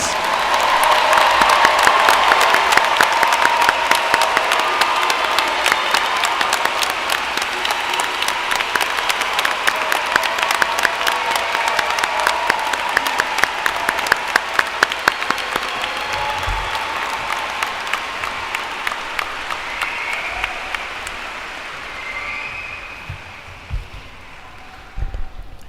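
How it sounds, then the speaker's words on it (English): Large commencement audience applauding graduating students at a university ceremony, a dense sustained roar of many hands clapping for about twenty seconds, then thinning and fading out toward the end. "Let's give all of these outstanding students a round of applause."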